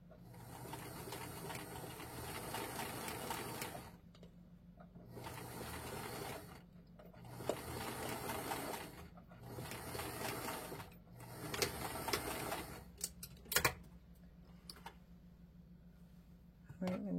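Sewing machine stitching along the edge of fabric in several bursts of steady mechanical chatter, each lasting a couple of seconds with short pauses between, fairly close with a low hum underneath.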